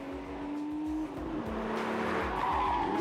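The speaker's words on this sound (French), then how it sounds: "L'Osella de Louis Surstrassen part en vrille" An Osella race car spins out at Le Mans Classic 2006, its tires skidding and squealing over a steady engine drone, loud and close, with a sustained screech lasting several seconds.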